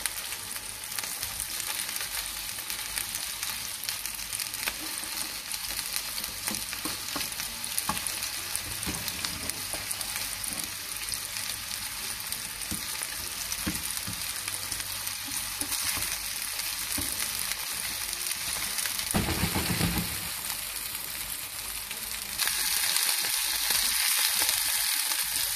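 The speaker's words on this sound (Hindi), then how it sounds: "इसको हल्की आंच पे पका रहे हैं" Food sizzles steadily in a pan over low heat, a continuous close frying hiss with faint stirring scrapes, running alone throughout and growing slightly brighter near the end.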